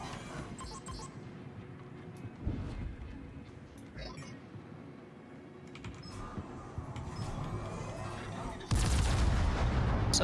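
Naval guns firing from warships in a World of Warships battle, heavy booms and rumbling blasts scattered across the clip, with a loud burst near the end over a dense game soundscape.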